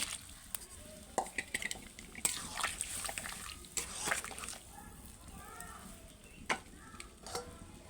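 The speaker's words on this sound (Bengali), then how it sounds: "এখানে আমার আলুটা ঢেলে দেবো" Boiled potatoes tumble into a pan of simmering vegetable stems, giving a few wet splashes and stirring clatters at close range.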